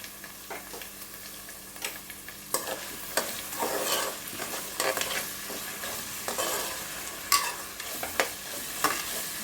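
Chopped tomato and vegetables fry in a pan with a continuous moderate sizzle, broken by repeated scraping and clicking strokes of a spoon stirring, close up, no voices.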